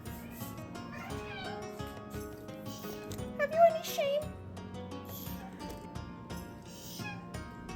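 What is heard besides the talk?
cat meowing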